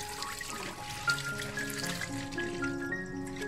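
Boiled vermicelli strained in a kitchen, with water trickling and pouring steadily through a strainer for a few seconds, close and fairly quiet.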